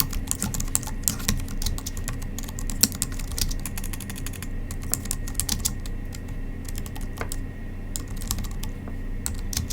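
Steady clicking of computer keys throughout, light irregular keystrokes with occasional harder taps over a constant low hum, close and moderately loud.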